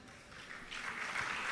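An audience at a religious discourse breaks into faint clapping that swells gradually into a soft, steady round of applause heard from a distance.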